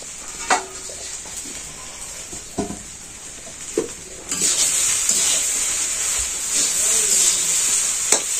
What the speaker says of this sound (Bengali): আমি এখন মাছগুলো দিয়ে দিতেছি।